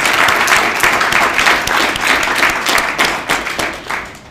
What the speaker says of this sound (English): So I want to give all of you a round of applause and thank you.